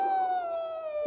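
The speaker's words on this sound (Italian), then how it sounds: "No, Bartolito, così fa un lupo." A wolf howl, voiced in a children's farm song, holds one long steady tone that slides slowly downward with clear harmonics, loud and alone for about a second.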